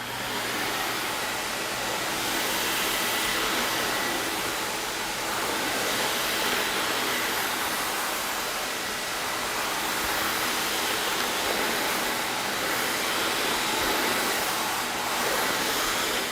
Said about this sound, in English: we just finished vacuuming